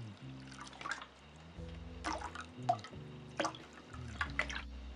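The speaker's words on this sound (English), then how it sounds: "Then top that water up to the fill line with some more warm water." Warm water is poured and dribbles into a container of soapy water for cleaning vape gear, a faint, irregular trickle with small drips and splashes in a quiet room.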